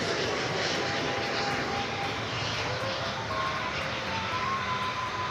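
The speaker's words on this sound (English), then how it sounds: "American Airlines Flight 941 on that Airbus A319" An American Airlines Airbus A319 arriving at DFW Airport, a steady broadband jet engine roar held at even loudness throughout, with faint tonal whines drifting above the rumble.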